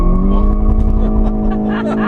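De Tomaso Pantera in a Forza racing game, engine revving hard with wheel spin while accelerating: a loud, steady droning engine note with tire noise, continuous and close.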